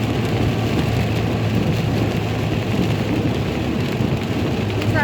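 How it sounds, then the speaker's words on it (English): Heavy rain pours down steadily while a car drives on a highway, a dense, loud, unbroken wash of drumming drops and road noise with no talk. "Driving in the rain"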